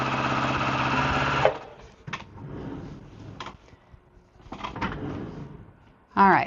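Sewing machine chain piecing quilt blocks, a fast steady whir for over a second that stops abruptly, followed by quiet fabric handling and a brief burst of stitching at the end.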